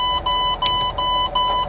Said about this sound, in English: now it's gonna start beeping because I have low air